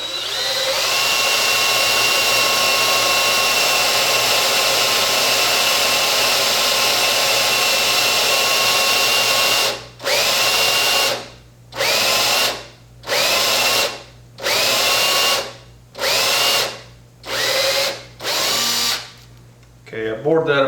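Power drill boring into a bathroom mirror mount, a steady loud whine for about ten seconds, then a series of short bursts with brief pauses between them, close up with no talking over it.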